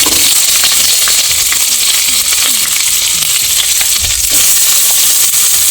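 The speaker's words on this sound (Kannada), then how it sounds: "ಚೆನ್ನಾಗಿ ಫ್ರೈ ಆಗಬೇಕು ಈರುಳ್ಳಿ." Onions fry in hot ghee for palak pulao, giving a steady, loud, close sizzle and hiss that runs the whole time, with occasional stirring scrapes and no voices.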